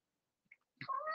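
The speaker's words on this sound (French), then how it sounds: "C'est mon chat." A house cat gives a single clear meow near the end, close and fairly loud, after near silence with only a faint click before it.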